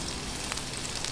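Garlic sautéing in hot oil in a pan, a steady close broadband sizzle with faint crackles and pops, no voices.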